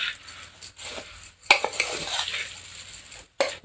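Puffed rice bhel is tossed and stirred in a bowl with a spoon, giving dry rustling and a few sharp clinks of utensil against the bowl, close and without talk.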